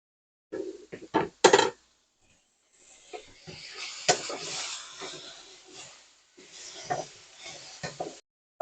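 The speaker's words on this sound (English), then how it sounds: "it gives us a good saute on here" Food being stirred and sautéed in a pan for a summer picnic dish, with scraping and rubbing of a utensil against the pan in short bursts, then a steadier sizzling, scraping texture, moderately close.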